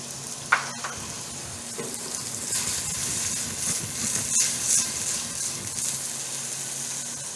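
Onions fry in a pan with a steady, close sizzle and hiss. A spoon occasionally knocks and stirs through them, and there is no talking.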